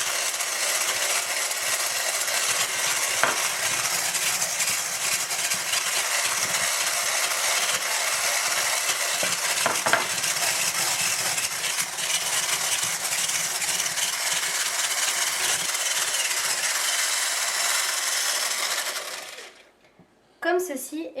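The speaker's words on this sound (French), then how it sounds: "On va commencer à monter les blancs en neige." An electric mixer whipping egg whites with sugar into meringue for a lemon mousse, a steady loud whir with faint rattling against the bowl that runs nearly twenty seconds, then cuts off abruptly.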